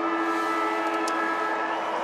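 Final siren at an Australian football match between Sydney and West Coast, a sustained steady horn-like tone sounding over distant crowd noise.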